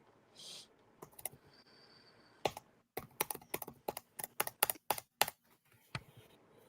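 Rapid clacking of keys on a keyboard, a quick irregular burst of sharp taps close up with brief pauses between.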